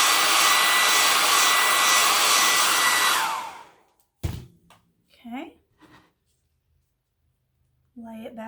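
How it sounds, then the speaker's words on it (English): A hair dryer blows loudly and steadily for about three seconds, then cuts off, followed by a thunk and brief speech. "Okay, got the hair dryer back."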